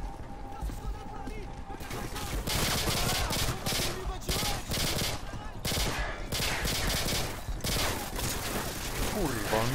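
Rapid, dense gunfire bursts from Call of Duty Modern Warfare 2, loud overlapping automatic shots and mechanical clatter, with a player talking over the combat.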